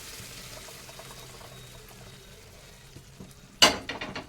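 A sudden loud sizzle bursts out near the end as a hot oil tempering is poured into amaranth-leaf lentil dal, after a few seconds of quiet kitchen background, then crackles and fades.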